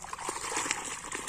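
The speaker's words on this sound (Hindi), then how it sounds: "पानी चलना शुरू हो गया है।" Irrigation water starts flowing into a rice paddy, a soft continuous trickle and gurgle close by, with faint splashes and no talk over it.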